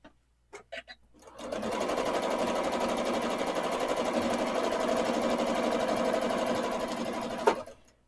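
A small-throated sewing machine quilting, a few clicks before it starts, then a fast, steady mechanical whirring stitch that runs loud and close for about six seconds before stopping abruptly.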